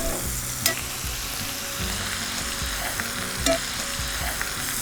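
Two tablespoons of bagoong shrimp paste sauté in a pan for ginataang sinantolan, giving a continuous close sizzle with stirring scrapes and a couple of sharp utensil clinks against the pan.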